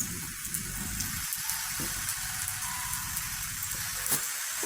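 Steady rain falls in the video game Minecraft, an even, close hiss of dense patter that continues unbroken throughout with no voices.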